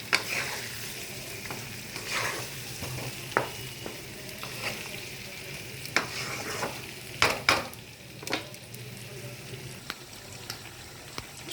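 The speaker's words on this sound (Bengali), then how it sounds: "আমার আলুগুলো অলমোস্ট ফ্রাই হয়ে গেছে" Potatoes coated in turmeric powder fry in a pan while being stirred, a continuous close sizzle broken by sharp spatula clinks and scrapes, no talking.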